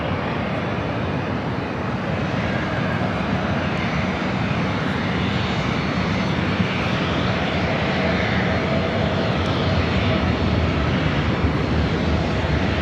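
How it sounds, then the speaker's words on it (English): A Delta Airlines Boeing 737-800 jet arriving from Seattle produces a steady, loud, broadband engine roar that holds evenly throughout with no talk over it. "This arrival is Delta Airlines 2769 coming in from Seattle on the"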